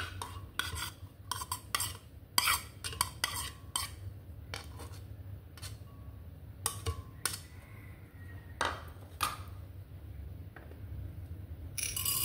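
A utensil scrapes and clinks against a bowl in bursts of quiet stirring while mixing a batter of tapioca starch, coconut milk, rock sugar and cooked mung beans, with soft irregular taps and pauses between strokes.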